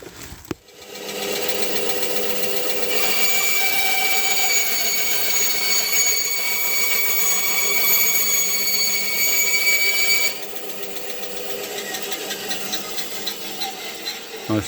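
A power tool runs continuously for about ten seconds as it cuts through a fuel line on a Volvo 950 project, a steady high whine and rasp that then drops to a lower running drone.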